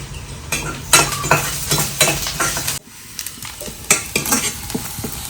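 Onions sauté and deep-fry in a pan in a home kitchen, a steady sizzle broken by repeated scraping and stirring strokes of a spatula against the metal, close and fairly loud.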